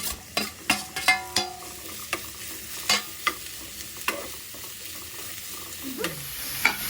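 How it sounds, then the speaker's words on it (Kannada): Mushrooms, garlic and two chillies frying in oil in a pan for a creamy mushroom curry, a soft steady sizzle broken by repeated sharp spatula knocks and scrapes, close up, no talking. "ಒಂದು ಪ್ಯಾನಲ್ಲಿ ಆಯಿಲ್ ತೊಗೊಂಡ್ಬಿಟ್ಟು ಇದರಲ್ಲಿ ಗಾರ್ಲಿಕ್, 2 ಬೆಳ್ಳುಳ್ಳಿ, 2 ಮೆಣಸಿನ್ಕಾಯಿ ಮತ್ತು ಅದ್ರ ಜೊತೆ ಒಂದು ಸ್ವಲ್ಪ ಮಶ್ರೂಮ್ ಹಾಕಿ ಬೇಯಿಸ್ಕೊಳ್ರಿ"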